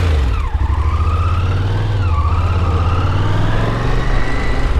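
A Yamaha TDM 850 motorcycle engine drones loudly and close during riding, a steady low rumble that shifts pitch slightly as revs change, with strong wind noise over it.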